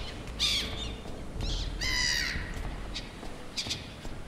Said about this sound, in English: These birds are so loud and obnoxious.